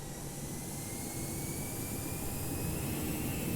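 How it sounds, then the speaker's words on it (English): Steady jet engine drone inside the cabin of a Toliss Airbus A319 in X-Plane 11, a continuous broadband roar with faint high whining tones slowly rising, moderately quiet and unbroken. "In terms of engine sounds, they're not overly intrusive in the cabin."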